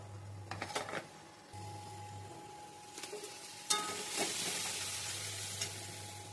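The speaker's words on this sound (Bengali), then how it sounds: "আর এখানে তেল গরম হয়ে গেছে, একটু গোটা গরম মশলা দেবো।" Whole garam masala and spice paste sizzle in hot oil, a steady broadband frying hiss with occasional stirring clatter, close and moderately loud, with no one talking.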